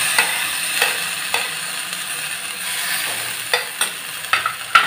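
Grated tomato puree fries and is stirred in a pan, a soft continuous sizzle broken by several sharp scraping strokes of a spoon, close by with no talking.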